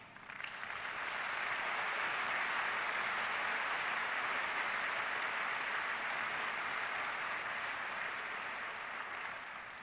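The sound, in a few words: applause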